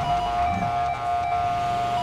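Ambulance siren in GTA 5, a loud sustained wailing tone held steady and close for the whole moment, with traffic rumble underneath and no talking.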